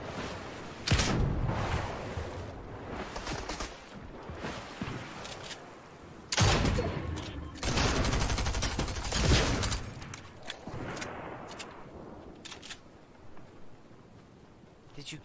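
Pistol shots and scattered gunfire in a video game sound through a busy mix, with a few sharp bursts standing out over ongoing game noise and players talking.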